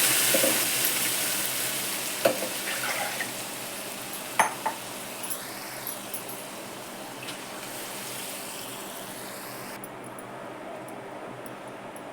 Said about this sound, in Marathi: मस्त अशी फोडणी घालायची